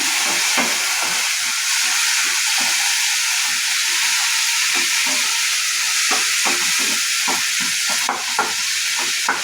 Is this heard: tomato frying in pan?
yes